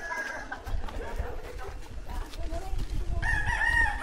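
Roosters crow repeatedly at the Paglitaw Spring resort, with clear, fairly close calls over rustling and background talk.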